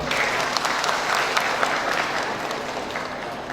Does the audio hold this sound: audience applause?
yes